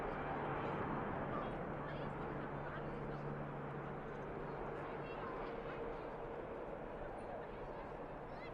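An Airbus A350 airliner at Manchester Airport produces a continuous, faint distant roar with broadband jet rumble that holds steady throughout.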